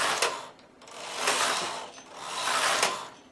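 A knitting machine carriage sweeps back and forth across the needle bed knitting a circular selvage row, giving three whooshing, clattering passes with mechanical ratcheting, close and alone.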